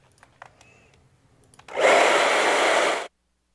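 Hair dryer blowing on wet acrylic paint, switched on after a few faint taps and clicks and running at a steady loud whoosh for just over a second before cutting off abruptly.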